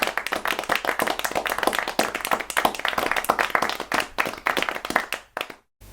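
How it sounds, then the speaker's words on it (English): A round of clapping from a group, dense and steady for several seconds, then tapering off into silence. "Give yourselves a round of applause."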